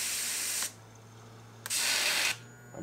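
Fuel injectors on a Mercury Laser EFI bench rig spray mineral spirits in two steady hissing bursts, each roughly a second long, separated by a quiet pause, close to the microphone with no talking.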